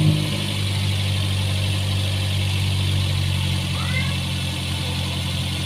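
A Daihatsu Luxio engine that has just been tuned up settles into a steady, loud idle after starting, a continuous close rumble with a low hum and faint mechanical chatter.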